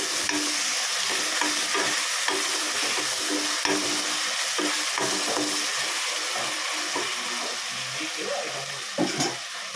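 Vegetables stirred in a pan while cooking sambar with bottle gourd and drumstick, a steady hissing sizzle with scraping stir strokes throughout, loud and close, no talking.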